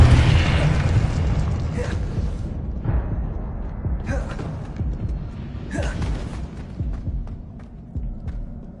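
Fiery spell blasts and explosions from Incendio and Confringo casts in the video game Hogwarts Legacy: a dense, loud rumbling bed with several sharp bursts at intervals, continuous and close.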